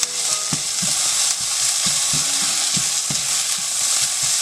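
Fenugreek leaves, spices and green chili being stirred in a frying pan, a steady sizzle under repeated scraping strokes of a spoon, close and fairly loud with no talking.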